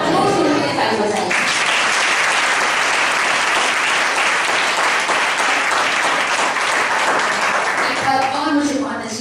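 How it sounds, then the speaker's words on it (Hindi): A church congregation at a Hindi-language service claps after a sister's testimony, with sustained loud crowd applause filling most of the stretch and a voice speaking briefly before and after it. "लोग सुन के ताली बजाइए"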